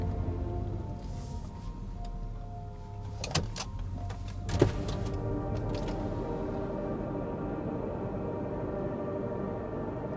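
A camper van's engine idles steadily with a low hum while it parks in a snowy car park, broken by a couple of brief clicks and knocks midway.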